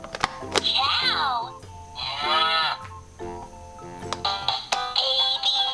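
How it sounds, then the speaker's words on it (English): A toy farm animal puzzle plays a recorded brown cow mooing several times in long, tonal bursts, with bright electronic chime-like tones between the moos, close and clear. "When you hear the brown cow moo, answer back and say moo too."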